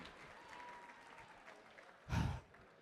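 An audience at a charity gala auction, the CHRIStal Ball 2024, applauds a winning bid, a faint crowd murmur rising into a short, soft burst of clapping heard from a distance.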